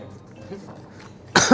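A single loud, close cough bursts out near the end after a stretch of quiet background murmur.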